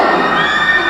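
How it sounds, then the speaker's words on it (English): About 200 fans greet a celebrity with a dense, loud burst of crowd cheering and high-pitched shouting, sustained across a single second with no gap. "Then it was time to greet 200 cheering fans."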